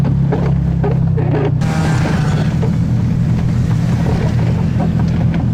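Snowmobile ride along a remote snowy road in Russia, with a steady loud engine drone and heavy wind rush on the microphone throughout, the noise building sharply after a brief quieter start.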